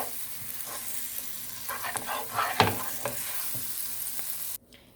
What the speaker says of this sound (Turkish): Bu şekilde susamla da kavrulunca yeterli olacaktır